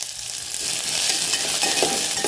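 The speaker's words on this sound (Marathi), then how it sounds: "तेल गरम झाल्यानंतर लगेचच आपण जी ही भेंडी आहे जी सोलून घेतली आहे ती भाजून घ्यायची आहे" Peeled spiny okra frying in hot oil in a pan, a steady close hiss of sizzling that thickens with crackling bursts partway through, with no voices.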